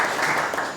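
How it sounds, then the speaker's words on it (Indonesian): An audience at a Buddhist meditation talk led by a monk claps together in a short, dense burst of applause that stays steady throughout and carries no voices. "Ya, jadi tepuk tangan dulu ya."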